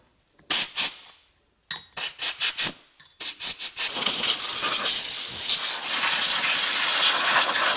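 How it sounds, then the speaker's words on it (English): Brake cleaner and compressed air blast over a BMW E36 188mm limited-slip differential, short sharp hissing bursts in quick series, then a sustained loud spray-and-air hiss with small fluctuations, close to the work and without talk. "We're just going to add some brake cleaner to it and some compressed air."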